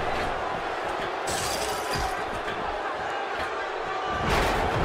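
Roaring arena crowd noise from the wrestling video game WWE 2K16, a steady dense cheer with occasional slams and impacts, continuous and fairly loud.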